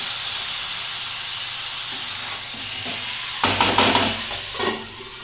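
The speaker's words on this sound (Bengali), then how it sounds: "বন্ধুরা মাংসটা দিয়ে আমি ঢাকা দিয়ে দিয়ে কষাবো" Chicken meat frying in a pan, first a steady soft hiss, then a louder burst of sizzling and scraping as it is stirred and turned, followed by a brief flare of crackle before settling again; close and unaccompanied by speech.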